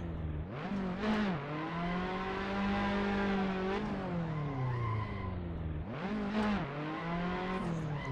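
A Fiat Abarth race car in the Assetto Corsa video game revs repeatedly while its tyres are warmed, the engine note climbing and falling in long sweeps with squealing tyre noise.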